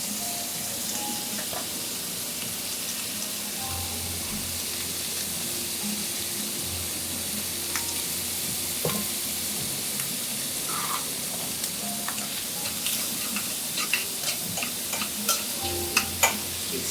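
Squid tubes sizzle in hot olive oil in a pan during a cooking class, a steady bright frying hiss with occasional stirring clicks and light pops, close and continuous.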